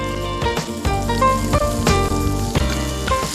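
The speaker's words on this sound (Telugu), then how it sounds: "గార్లిక్, ఆనియన్స్ సో వేసుకొని ఒకసారి ఫ్రై చేసుకుందాం." Garlic and onions fry in hot oil for a fig (anjeer) chutney, making a steady, loud sizzle with crackles and pops. Clinks of a stirring utensil break in now and then.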